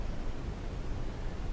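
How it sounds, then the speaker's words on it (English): Dark noise background sound from an iPhone running iOS 18: a steady, even hiss weighted toward the low end, unbroken and smooth from start to finish with no voices. "and a dark noise sound."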